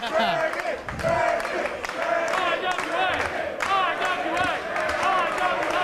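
Crowd at an IWA independent wrestling match in Highland, with two wrestlers facing each other, keeps up a steady roar of shouts, cheers and scattered claps while commentators talk over it.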